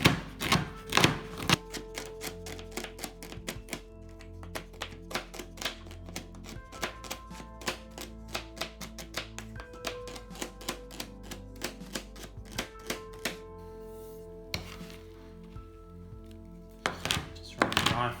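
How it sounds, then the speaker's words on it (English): A knife rough-chops vegan, soy-based chocolate on a cutting board for brownies, giving a rapid, uneven series of close, solid thunks that go on for the whole stretch, with brief pauses between bursts. "Just run the knife through it a couple of times."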